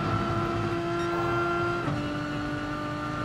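Race car engine in GT Sport holding a steady, loud high drone as the car pulls away on a straight, its pitch stepping down once partway through, with no talk over it.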